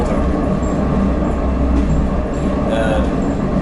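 A Czech rail bus, the unpowered 510 type towed by an 810 railcar, rolls along railway tracks, a steady loud rumbling hum of wheels and running gear heard from close inside the car.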